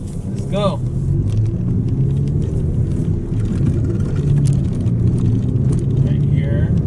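A car pulls away from a tight parking spot, its engine giving a steady low rumble from inside the cabin while someone talks over it, with a brief chirp early on.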